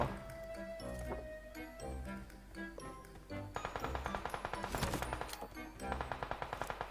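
In PUBG Mobile, a string of rapid automatic gunfire bursts out. Sharp single shots give way to sustained, rhythmic rattling fire in the second half, loud and close.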